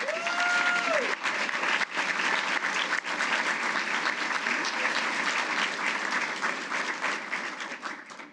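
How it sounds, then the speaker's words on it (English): Sustained loud applause from an awards-ceremony audience honoring award winners, dense clapping that holds steady throughout and tapers slightly at the end. "Please join me in one more round of applause for our award winners."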